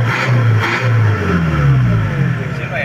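A Mitsubishi L200 turbo diesel engine revs up repeatedly, loud and close, with rising pitch sweeps and a whistling turbo tone over a rough mechanical rumble.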